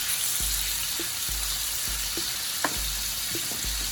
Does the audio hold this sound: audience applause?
no